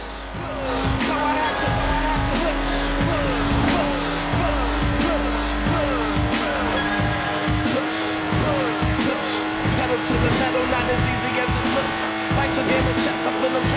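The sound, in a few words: Lotus Exige car driving in Forza Horizon 4 video game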